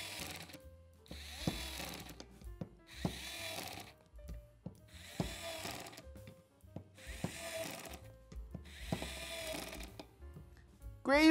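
WORX WX242 cordless screwdriver driving screws into wood, several separate bursts of motor whir each lasting about a second, with clicks and knocks from handling between them, close up and without speech.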